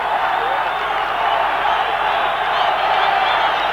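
A football stadium crowd cheering at a 1990 Marlboro Cup match between Colombia and the USSR, a steady, broad roar of many voices with scattered whoops, sustained and fairly loud throughout.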